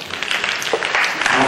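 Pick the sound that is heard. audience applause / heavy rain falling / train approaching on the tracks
audience applause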